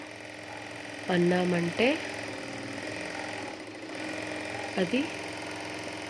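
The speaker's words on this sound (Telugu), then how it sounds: "ఈ విధంగా మనము ఈ మిషన్ నుంచి బాబిన్ అనేది ఎక్కించుకోవచ్చు" Jack F4 industrial sewing machine running under pedal control to wind thread onto a bobbin, giving two short mechanical whirring bursts about three seconds apart under a quiet hum, with a voice speaking briefly.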